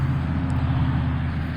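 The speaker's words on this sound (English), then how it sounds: "A lot of logging trucks going by making noise." Logging trucks roll past on a nearby road, a steady low engine and tire rumble that holds throughout the short stretch with no pause.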